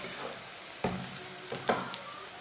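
Ginger and garlic sizzle quietly in a pan while a spoon stirs them, its scrapes and taps coming as a few sharp clicks over a soft, faint frying hiss.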